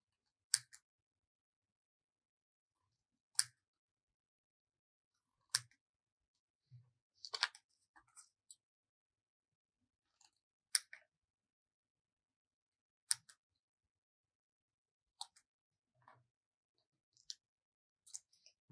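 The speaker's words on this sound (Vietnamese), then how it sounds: "Mình sẽ cắt ra những cái mảnh giấy hình vuông màu hồng." Scissors snipping square pieces of pink paper for a handmade greeting card, faint sharp cuts spaced irregularly every second or two in a quiet room.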